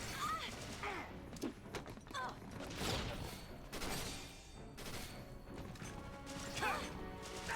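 A hand grenade bursts in a Final Fantasy XIII battle amid a busy mix of crashes, whacks and clattering combat effects, with a voice speaking intermittently over the game sounds at moderate, fairly low loudness.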